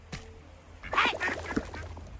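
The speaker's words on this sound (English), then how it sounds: "Also, is that a duck?" A duck in the video game Indie Cross quacks several times in a quick burst, fairly close and clear over a low background hum, with a faint earlier blip before the calls.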